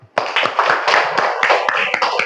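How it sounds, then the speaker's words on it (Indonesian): A short burst of hand clapping from a small group of children in a classroom, uneven and brisk, lasting a couple of seconds at close range. "Tepuk tangannya, nak."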